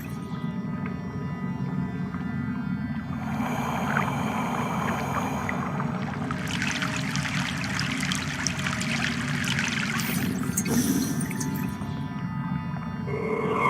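Boat crossing a river in the video game Broken Sword: The Sleeping Dragon, Egypt section: a steady low watery wash and trickle runs throughout, with brighter splashing swells in the middle, no talking.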